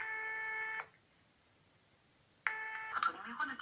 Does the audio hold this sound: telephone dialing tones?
yes